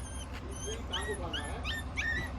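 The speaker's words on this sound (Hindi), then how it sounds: "डोडो सुसु कर रहा है और ये अपना डॉगी" A puppy whimpers and gives high, thin yips in a string of short cries. The sound is moderately close over a low background hum, and people talk alongside it.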